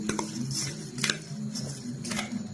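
A puffed rice snack mix with peanuts, mixture, chopped tomato, coriander, green chilli, salt and chilli powder being stirred in a bowl, giving soft scraping and clinking spoon sounds in a few light strokes, fairly quiet.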